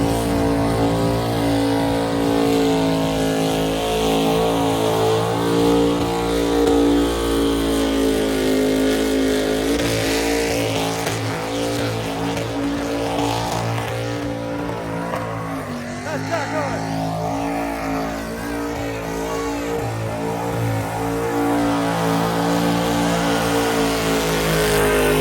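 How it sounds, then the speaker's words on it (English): A Chevrolet S10 race truck with an LS engine drives past and revs, giving a loud, steady engine roar that swells and briefly dips midway. "quickly shoot back over and then drive Marine, one of Seth's S10s from Zombie Garage"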